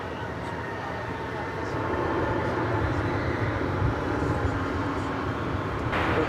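A Boeing 737-800 airliner takes off at DFW Airport, its steady broadband jet roar swelling after a couple of seconds and holding loud and continuous from a distance.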